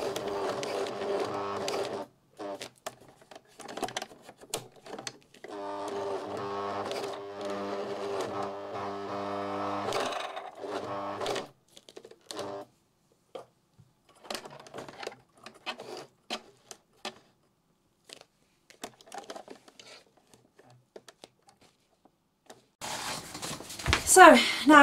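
A sewing machine stitching a welt pocket runs in steady bursts of rapid mechanical whirring, separated by pauses and quieter handling noises, and ends with a louder rustle.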